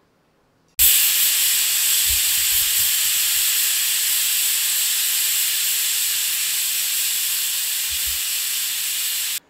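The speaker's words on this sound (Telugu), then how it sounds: "మరి ఎన్ని విజిల్స్ రావాలి, 3 విజిల్స్ రావాలండి." Pressure cooker whistling on a stove while cooking dal with yellow cucumber and tomato: a sudden loud, sustained high hissing whistle that holds steady for about nine seconds, then cuts off sharply.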